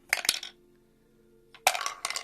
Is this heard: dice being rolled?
yes